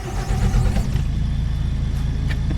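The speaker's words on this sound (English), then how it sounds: "Let's just start the engine and have a listen to the sounds on this." A bus engine in the driving game The Bus cranks and catches, settling into a steady, loud low rumble that idles on without talk.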